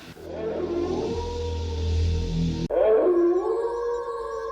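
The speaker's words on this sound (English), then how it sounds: "it keeps showing a full moon with a wolf howling" A long, wavering wolf howl from a film soundtrack sustained over a low rumbling engine, then a sharp cut to another drawn-out, sliding tonal cry.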